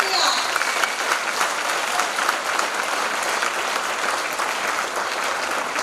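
Loud, dense applause from an audience of women at an empowerment program, a steady wash of many hands clapping throughout with a few murmuring voices mixed in.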